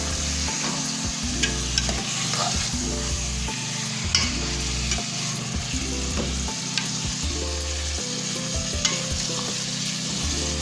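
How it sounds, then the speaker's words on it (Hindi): Turnip meat curry with tomatoes sizzling and frying steadily in a pot while being stirred, with occasional utensil scrapes over a continuous close hiss and no speech. "तो अच्छे से चलाएंगे।"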